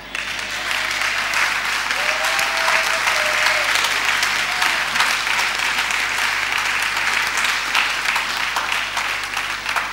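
A church congregation applauds loudly and continuously for the full stretch, a thick, even roar of many hands clapping, with a few voices rising faintly above it.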